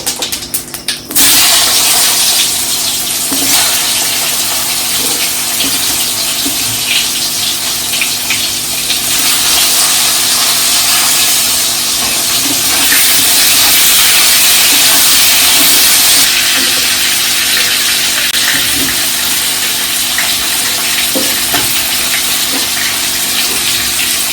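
Drumstick stalks and potatoes fry in oil tempered with white cumin seeds for a fish curry, giving a loud, steady broadband hiss and sizzle that continues for the whole stretch with no voices.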